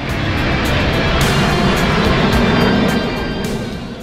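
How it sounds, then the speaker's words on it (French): Patrouille de France jets passing in formation during an air show at Carcassonne, a loud, sustained broadband roar that swells and holds steady for the whole stretch with no talk over it. "Une figure emblématique de la patrouille de France, c'est la figure La Shérif avec 8 avions."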